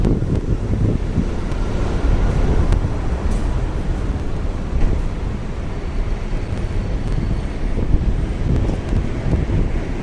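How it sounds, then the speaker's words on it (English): Strong wind buffets the microphone with a constant low roar and rumble, steady throughout with no voices, on a street walk in Shinjuku, Tokyo. "it's unusually windy today"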